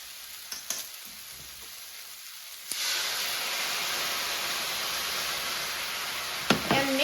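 Black pepper sauce is poured onto Angus beef and vegetables frying in a hot pan. A sudden loud sizzle bursts out, then holds as a steady, close frying hiss with a few clinks near the end.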